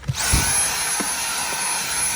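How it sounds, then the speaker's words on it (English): A vacuum cleaner starts up inside a Ford F-250 truck cab and runs steadily with a high whine and airy roar, close and loud, with a few knocks as it works over the floor. "we'll vacuum a little bit that we have in here"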